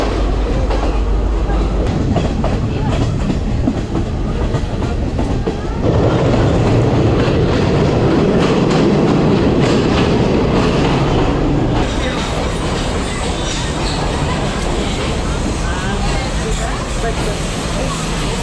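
A train rolls along the rails through Sri Lanka, a steady loud rumble with clickety-clack of the wheels throughout, the sound shifting and swelling midway as carriages sway, with people talking now and then over the din.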